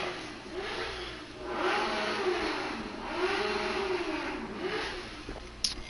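A sport motorcycle revs at traffic lights, heard from a distance in repeated rising and falling engine swells with a sharp click near the end, and no talking over it.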